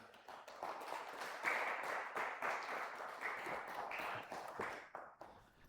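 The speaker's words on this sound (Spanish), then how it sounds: "Da un fuerte aplauso al Señor, mi amado hermano." A church congregation claps in strong, sustained applause praising the Lord, a dense crackling wash of many hands that swells and ebbs over several seconds before thinning out.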